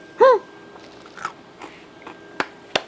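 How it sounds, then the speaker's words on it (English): Someone bites into the crunchy, salty skin of a loaded baked potato topped with crispy pork, giving a short vocal hum, then a few faint crunches and two sharp, close crackling bites. "Cannot beat that crunchy skin."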